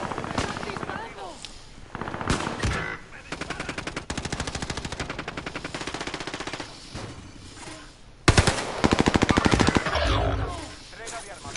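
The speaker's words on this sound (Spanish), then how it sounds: "¡Están disparando!" Call of Duty Warzone gunfire, rapid automatic bursts of loud, close shots in several long strings, mixed with game voice callouts and ambient battle noise.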